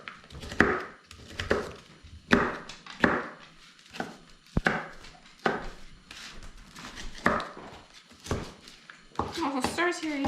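A knife chopping green peppers on a cutting board in a home kitchen, a steady run of crisp, close knocks repeated a dozen or so times, with a voice speaking faintly now and then.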